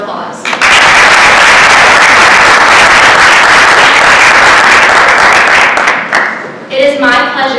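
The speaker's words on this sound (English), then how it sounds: "Let's give all of our members one more round of applause." Loud, dense applause from an audience at a high school National Honor Society induction ceremony, sustained and steady for several seconds before tapering off as a voice begins speaking.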